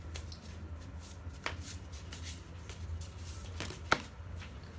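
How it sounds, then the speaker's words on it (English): A deck of Light Seer's Tarot cards being shuffled by hand for a reading: soft, quiet riffling and sliding of cards with a few crisp snaps, close and continuous, with no talking. "I'll be doing live shuffling of the cards"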